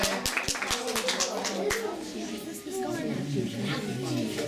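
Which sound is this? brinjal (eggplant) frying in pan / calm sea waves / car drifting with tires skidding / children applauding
children applauding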